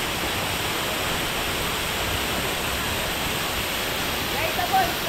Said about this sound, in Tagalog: Digisit Falls. Mataas yan, no?